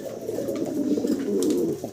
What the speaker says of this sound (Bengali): খুব খেপা ভাই, নর তো ডাক থামে না